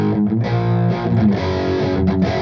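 An electric guitar played through an amplifier's vintage distortion channel gives a loud, thick, saturated tone, sustained chords ringing steadily with small dips between strums, with no voices present.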